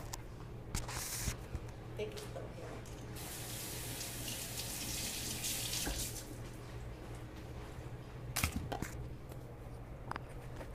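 A kitchen tap runs steadily into a sink while raw chicken is rinsed, a continuous close splash with brief louder surges and a few handling knocks near the end.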